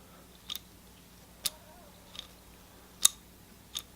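Five sparse, quiet mechanical clicks from a 1/2-inch drive ratchet over a faint background hum, spaced irregularly.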